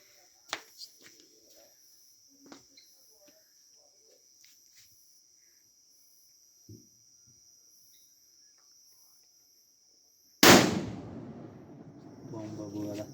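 A single loud firecracker (bomba) blast goes off near the end at a São Pedro bonfire festival, booming and then rumbling away, after a long quiet stretch of steady cricket chirping with a few faint clicks and distant noises.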